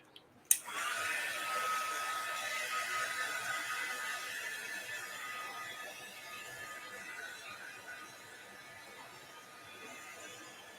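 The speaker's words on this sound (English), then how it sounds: "how I dry that is with my magic heat gun" A heat gun drying a watercolor flower painting switches on with a click and then blows a steady, fairly loud airy whoosh that eases slightly over about ten seconds, with no one talking.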